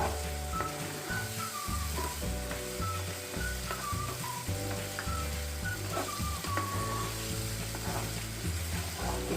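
Tomato paste frying in a pan for mutton curry, a continuous loud sizzle with the rhythmic scraping and clacking of a spoon stirring against the pan throughout, no voices.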